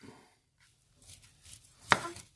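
A knife cuts through cooked pork ribs on a board, with a few soft slicing scrapes ending in one crisp, clear chop against the surface. It is quiet and close up, with no talking.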